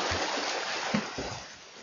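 Water sloshing and splashing, a steady rushing wash with a few sharper splashes, like swimmers churning through water during a triathlon swim.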